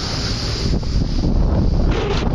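Strong cyclone wind with rain buffets the microphone in a loud, roaring rush at Sadarghat river port on the Buriganga River, Dhaka, with a faint wash of water underneath.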